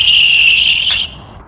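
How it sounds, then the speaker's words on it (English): A BMX bike tire pumped to high pressure squeals against the ground while drifting, a sharp, high-pitched screech lasting about a second before cutting off. "if the tires don't squeal and sound like this,"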